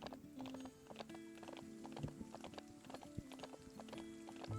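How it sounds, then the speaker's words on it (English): Rhythmic hoofbeats of a horse galloping in the video game Ranch of Rivershine, steady clopping with some background hum, moderately quiet and continuous throughout. "Normally, you do not want to gallop everywhere because your horse will be very low on stamina"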